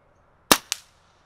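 Brocock Atomic XR air rifle fired once outdoors, a sharp loud crack followed quickly by a second fainter snap, then silence.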